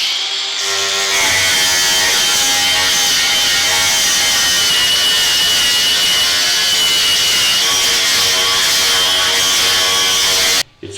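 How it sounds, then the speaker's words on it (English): A power sander with a sanding disc grinds loudly and continuously against a rubberized coating on a bus's interior ribs, a harsh whining drone that runs nonstop before cutting off abruptly at the end. "It's hard on the sanding discs."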